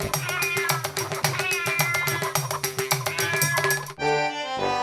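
A cartoon cat meows repeatedly in a children's animated story, its cries close and loud over a busy music score, breaking off near the end.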